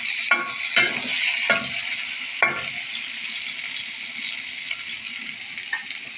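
Onion, garlic and ginger are stirred into hot oil for a tengra fish dish, giving a steady, loud sizzle broken by several sharp scrapes and clanks of a spoon against the pan.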